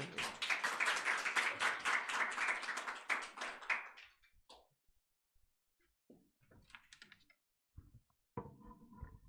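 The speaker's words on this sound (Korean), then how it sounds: "나오실 때 박수." A congregation in a Korean church service claps for about four seconds as a pastor comes forward. The brisk, even applause stops abruptly and is followed by quiet shuffling and small knocks.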